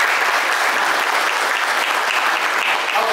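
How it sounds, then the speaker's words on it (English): Sustained applause from an audience at a golf tournament Q&A event, steady and dense for about three seconds with no talking over it. "Give her a round of applause."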